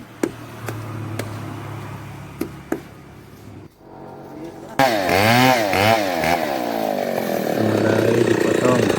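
A chainsaw cutting a coconut tree, at first light clicks and idle noise, then a loud revving saw that roars continuously and wavers in pitch as it bites, close by, with someone talking.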